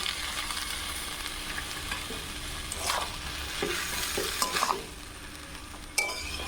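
Fried potatoes, fried coconut and boiled peas are stirred together in a pan for ghugni, giving a steady sizzle with repeated scraping strokes of the spoon, close and continuous with no talking.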